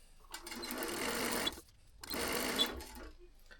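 A sewing machine stitches thin polyester fabric in two steady whirring runs of over a second each, separated by a short pause, close and clear with no talk.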